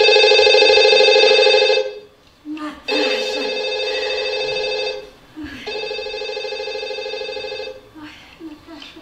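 Old-style telephone bell ringing on stage during a theatre play, several loud rings with brief gaps between them, close and clear, with a few short vocal sounds in the pauses.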